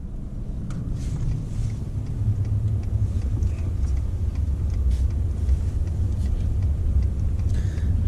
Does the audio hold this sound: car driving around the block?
yes